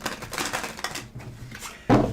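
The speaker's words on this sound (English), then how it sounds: "I don't normally shuffle this way." Tarot cards riffle and slap together in a brief, papery flurry, ending with a louder tap as the deck settles.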